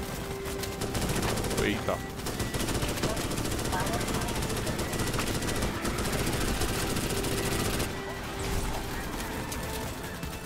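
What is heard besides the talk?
gunfire from video game Starship Troopers: Extermination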